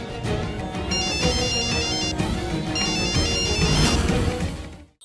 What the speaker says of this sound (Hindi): फोन बज रहा है, उठा क्यों नहीं रही है?